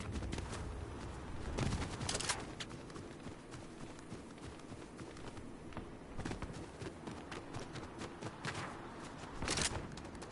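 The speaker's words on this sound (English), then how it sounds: "it's gotta be because there's gunshots over here." Scattered gunshots from Fortnite, a few sharp cracks spread out over a busy background of footsteps and hoofbeat-like clatter.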